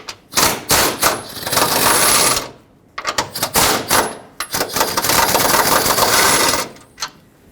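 Power tool with a 13mm socket running bolts out near the fan on a 2008-2010 Ford F-250 6.4L diesel: two long loud rattling bursts, each opened by short stuttering pulses, then a brief final blip, close by with no voices.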